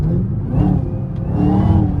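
A supercharged LT4 V8 in a Camaro ZL1 revs under throttle, with a rising supercharger whine over a deep, rumbling drone. It is close and loud, with no talk.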